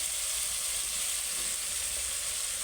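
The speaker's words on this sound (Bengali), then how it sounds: "এবার আমি ভালো করে মশলাটা কষবো যতক্ষণ না তেল ছাড়ছে ততক্ষণ কষবো" Spice paste fries in oil for Bengali doi katla, a steady, even sizzle and crackle at moderate volume that continues unbroken, with no voices over it.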